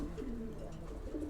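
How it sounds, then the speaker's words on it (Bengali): Low, rolling coos come from a pair of pigeons sitting over a single young chick, the murmuring calls close and steady, repeating twice in the brief span without any voices. "এই যে আমাদের এক পেয়ার বাঞ্জা কবুতর"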